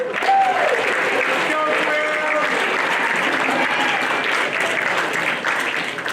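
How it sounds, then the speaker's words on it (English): A room full of people applauding steadily, loud and sustained throughout, with a few whoops rising over the clapping. "Round of applause to them."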